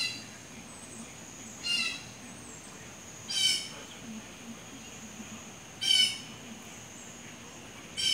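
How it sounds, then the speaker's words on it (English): Several sharp, harsh bird squawks at irregular intervals, sounding a short distance away over a low steady background hum. "Probably the loudest bird I've heard in there in a long time"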